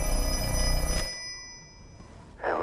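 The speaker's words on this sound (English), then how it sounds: "And once again, the phone's ringing." An old telephone bell rings loudly in a Black Phone 2 horror movie trailer, a single sustained metallic trill that cuts off and fades, followed by a brief burst of another sound.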